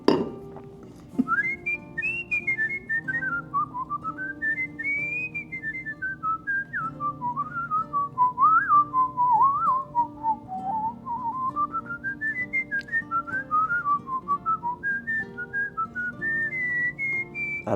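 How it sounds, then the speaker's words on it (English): Someone whistles a melodic tune clearly and continuously, gliding between notes with a steady rhythm and faint background tones. "Let me hear a little whistle."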